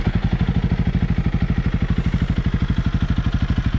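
A Honda CRF300L motorcycle idles close by after starting, its single-cylinder engine firing in a steady, even low-pitched pulse that stays loud and unchanging with no voices over it.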